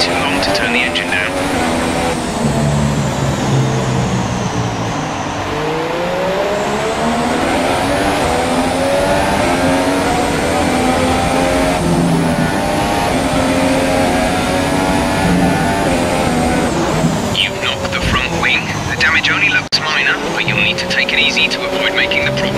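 A race car engine roars loudly and continuously, its pitch sweeping up and down as it accelerates and lifts off, with radio voices talking over the engine note.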